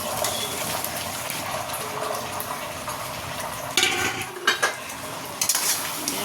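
Fried vegetables and spices are stirred in a pan with scraping and clinking of a metal utensil, set against a steady hiss of cooking, with a few sharper knocks near the end.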